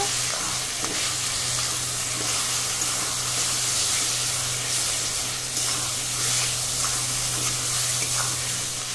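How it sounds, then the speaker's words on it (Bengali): Ground chili, meat masala and cumin sauté in hot oil for a chicken dish, a close, continuous sizzle with soft stirring scrapes and no voices. "মশলা খুব সুন্দর করে কষিয়ে নেব।"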